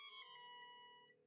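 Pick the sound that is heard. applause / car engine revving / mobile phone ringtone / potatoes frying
mobile phone ringtone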